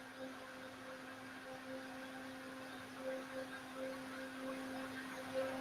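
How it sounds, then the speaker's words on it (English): A household blender runs in another room, a faint, steady whir with a constant tonal hum, heard alone at low level throughout. "We got the blender going in the house."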